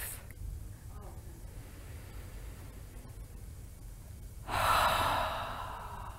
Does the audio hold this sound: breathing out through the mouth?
yes